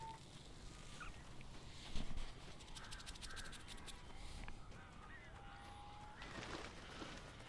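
Crows caw in the Alan Wake video game, several rough calls scattered through a quiet, hissy night-park ambience, with one louder call near the start and fainter ones trailing off.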